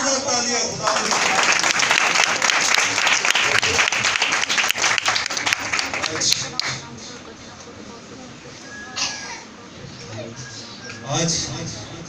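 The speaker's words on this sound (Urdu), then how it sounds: "زوردار تالیاں خدا کے لیے." A church congregation claps loudly for God during a worship service, dense applause for several seconds that then thins out and trails off into scattered claps and room noise, with speech heard.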